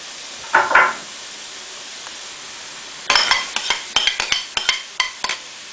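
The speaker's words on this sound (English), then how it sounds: "can you hear it sizzling?" Courgettes and other vegetables for a vegetarian spaghetti bolognese sizzle in a frying pan, a brief hiss early, then a run of sharp clatters and scrapes as they are stirred, close up, no voices.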